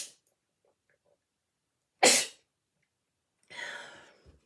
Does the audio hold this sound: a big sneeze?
yes